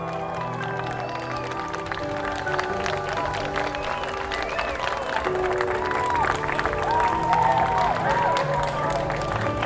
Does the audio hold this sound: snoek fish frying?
no